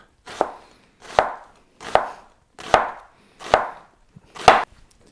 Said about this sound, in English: I'm going to use about a half an onion, and I'm going to want to slice this horizontally like this